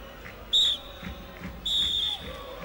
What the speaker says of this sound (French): Et coup de sifflet au moment où Chanès s'intéressait à ce qui restait au Monégasque